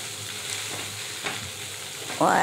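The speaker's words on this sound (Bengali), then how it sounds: "আমি বাটারটা দেই আর নুডলসটা আরেকটু নাড়াচাড়া করে নিব" Noodles being stirred in a frying pan with butter and egg, a steady close sizzle and scraping under the stirring, with a sharper burst of frying near the end.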